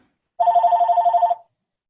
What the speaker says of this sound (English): Sorry, this is the house phone.